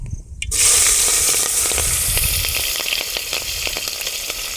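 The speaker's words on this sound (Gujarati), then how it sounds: "હવે નાખી દઈએ મરચાં." Green chillies hit hot oil already tempered with cumin and asafoetida, bursting into a loud, close sizzle that holds steady with crackling pops, with no talk.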